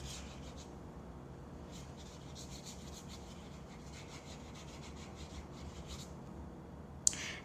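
A paintbrush wets watercolor paper with soft, repeated rubbing strokes, faint and close, in a steady scratchy rhythm ending with a small tap.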